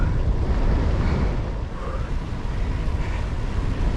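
Strong headwind buffets the microphone while cycling, with a continuous low roar and rumble, fairly loud and unbroken.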